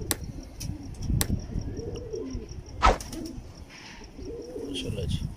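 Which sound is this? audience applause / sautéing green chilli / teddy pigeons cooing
teddy pigeons cooing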